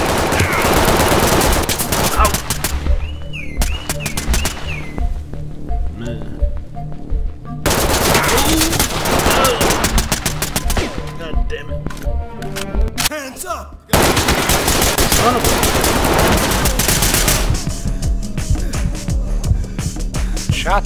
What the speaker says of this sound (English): A civilian is shooting from behind him.